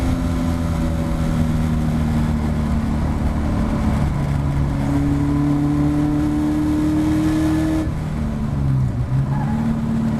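Caterham Academy race car accelerating down the straight at Oulton Park, a loud in-car engine drone with rising pitch through the gears and a shift near the end, no speech over it.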